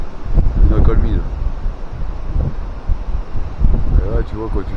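Strong gusty wind roars across the microphone under large oak trees on a ditch-clearing worksite, loud and continuous, with someone talking over it.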